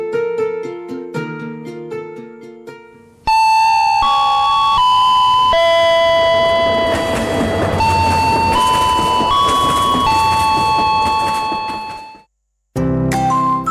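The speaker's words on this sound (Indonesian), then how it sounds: "Westminster Chime adalah set melodi lonceng yang digunakan di Istana Westminster untuk menandai tiap per 4 jam dengan bunyi lonceng" A Westminster Chime bell melody rings out in clear, loud, sustained tones, the familiar four-note phrases ringing and overlapping with long decay, then breaking off briefly before another loud burst starts at the end.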